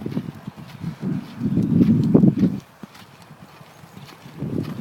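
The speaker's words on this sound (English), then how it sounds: "she's kind of enjoying going around in a lope here" Horse loping around an arena with a rider, soft rhythmic hoofbeats in rolling bursts, louder in the middle then fading and returning, close by with no talking.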